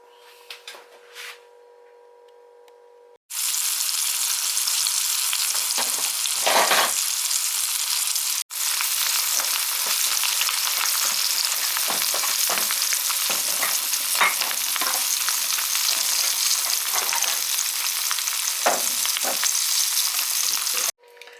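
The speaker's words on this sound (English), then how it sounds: "now all that needs is cooking in some oil for about 2 to 3 minutes each side" Floured mackerel fillets hit hot oil with a sudden loud, dense crackling sizzle that holds steady and close for many seconds, broken once by a brief pause, with no one talking.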